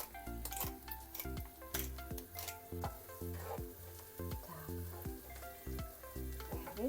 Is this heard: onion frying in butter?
yes